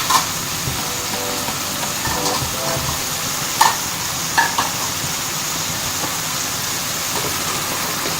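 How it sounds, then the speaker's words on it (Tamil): Mushrooms dropped into a pan over sautéed green chilies, coriander and mint, frying with a steady close sizzle and a few sharp clinks of stirring, no talking. "எல்லாம் வதங்கிடுச்சு. காளான போடுறோம்."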